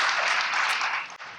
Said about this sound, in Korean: 당신도 마찬가지라고 얘기를 해서 지금 박수를 받고 있습니다